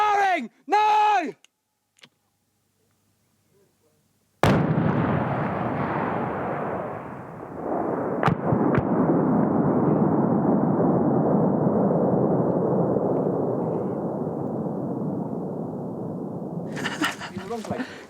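Soldiers detonate a wartime bomb: after a few shouted words and a short silence, one sudden, massive blast booms out nearby, then rumbles on for many seconds as debris settles before voices return near the end.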